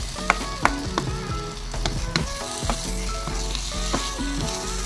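Eggplant and egg sautéing in a home-kitchen pan, a steady sizzle with sharp clinks and scrapes of a spatula stirring at irregular moments throughout.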